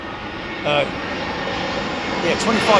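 A jet airliner comes in to land at Heathrow Airport in gusty conditions, a steady roar of engines and rushing air filling the whole stretch, with brief louder swells and a person talking over the noise.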